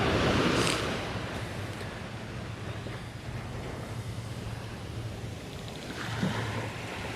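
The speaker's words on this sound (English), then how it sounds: "So here's the beach." Steady wash of ocean surf at a beach in Costa Rica, a continuous broadband roar with wind buffeting the microphone, swelling slightly at the start and end, no voices.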